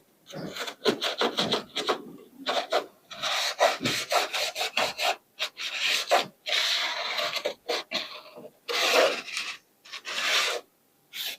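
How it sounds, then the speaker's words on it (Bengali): A stiff brush scrubs a cleaning mixture onto the rubber door seal of a refrigerator, giving close, rasping strokes in quick irregular bursts with short pauses between them, and no voices. "এটাতেও একইভাবে ব্রাশের সাহায্যে লাগিয়ে নিচ্ছি মিশ্রণটা। এবার একটু ঘষে দেবো।"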